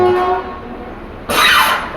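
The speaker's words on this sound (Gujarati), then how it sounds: "રાઈટ આપણી ટ્રેને ડિપાર્ચર લઈ લીધું છે રાજકોટ જંકશન રેલવે સ્ટેશનથી" Local passenger train 59563 pulling out of Rajkot Junction railway station, a steady rumbling run followed by a sudden loud, bright hiss or horn-like burst that holds to the end, close by.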